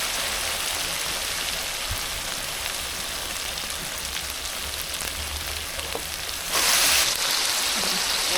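Potatoes and yardlong beans sizzle steadily while frying in a pan, a constant crackling hiss that swells louder near the end as they are stirred.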